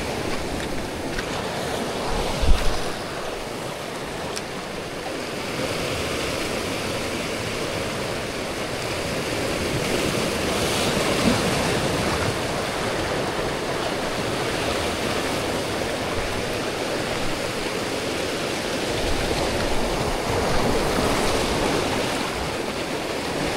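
Strong waves crash and surge against sharp rocks along a rocky shore at a fishing spot, a continuous loud roar of surf with one brief thump near the start and no voices.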